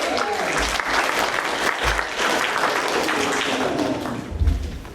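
Audience at a young composers' night clapping for a composer, a dense burst of applause with a few heavy thumps, and a voice briefly heard amid the claps.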